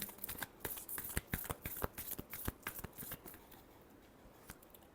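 Tarot cards being shuffled by hand, a rapid run of crisp riffling flicks and slaps that thins out toward the end, close and alone with no talking.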